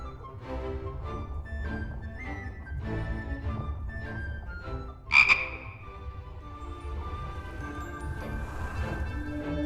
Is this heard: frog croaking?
yes